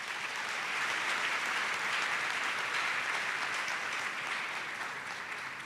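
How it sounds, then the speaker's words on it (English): Steady, dense applause from a university audience honoring a mother, sustained at an even level throughout with no one speaking over it. "I believe she deserves a round of applause."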